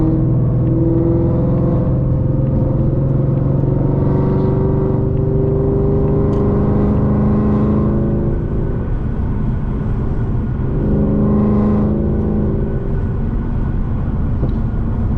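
Loud, continuous engine roar of an 800 HP 2025 Mustang GT running on E85 fuel, accelerating through rising and falling tones as gears shift, heard from inside the car on an evening cruise with no talk.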